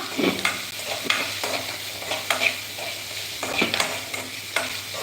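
Ingredients for Madurai-style thanni chutney sautéed in a pan, a continuous close sizzle with repeated rhythmic spatula scrapes and clacks against the pan, loud and without speech.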